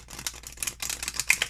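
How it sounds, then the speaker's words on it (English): Oracle cards being shuffled by hand, a quick run of light, crisp flicks and papery taps in an irregular rhythm, close and fairly clear with no talking. "It's not bad shuffling."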